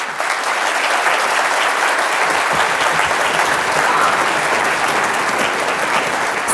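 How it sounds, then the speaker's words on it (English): Audience at an elementary school orchestra and jazz strings concert applauds steadily, a dense, even wash of clapping filling the room at full volume from start to finish. "So should we give them one more applause for their hard work?"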